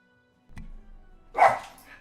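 A little Pomeranian gives one sharp, close bark after a soft knock, standing out clearly against an otherwise quiet background.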